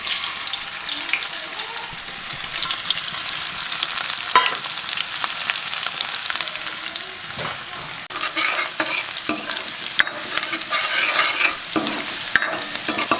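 Onions frying in oil in a steel kadai, a loud, dense crackling sizzle that runs throughout, with occasional clicks and scrapes of stirring, close up and without voices.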